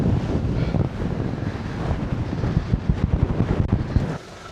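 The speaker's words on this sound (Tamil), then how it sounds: "அப்படி அவ்வளோ அவ்வளோ மோசமாக இருக்குது காற்று" Strong wind gusting across an exposed high plain at Moon Plains near Nuwara Eliya, Sri Lanka, roaring and buffeting the microphone with loud rumbling bursts throughout, then dropping off abruptly near the end.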